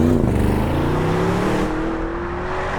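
A 2025 Audi RS Q8 Performance SUV drives with a loud, steady engine drone whose pitch climbs gradually as it pulls, heard up close with no voices.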